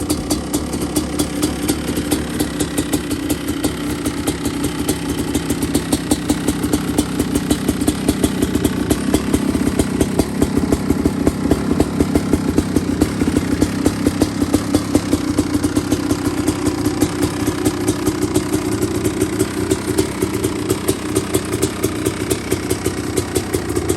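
A Kawasaki KX500 two-stroke motorcycle engine idles steadily nearby, a loud, rapid, even putter with a faint rhythmic knock, running alone for the whole stretch.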